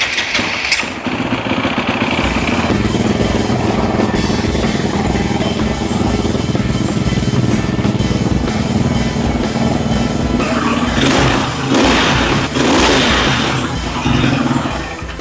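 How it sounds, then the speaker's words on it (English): An engine cranks and catches, then runs loudly and steadily close by, its throttle rising and falling in a few revs, just after a badly abused engine has had its oil changed. "this is the last thing to do before starting the engine"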